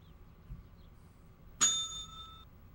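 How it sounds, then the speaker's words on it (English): A bright single bell ding from The X-Files PS1 game rings out once and decays with a ringing tail over quiet low room noise, with no talk over it. "Bell!"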